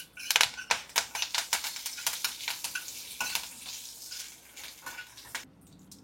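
Mustard seeds, urad dal and curry leaves crackle and sizzle in hot oil, with rapid sharp pops bursting close up at first, then easing into a softer steady frying hiss.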